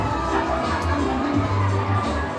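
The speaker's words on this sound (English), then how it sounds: "you can hear the crowd screaming" A packed rugby sevens crowd at Fiji's Coral Coast Sevens roars and screams continuously, close and loud, with voices shouting throughout.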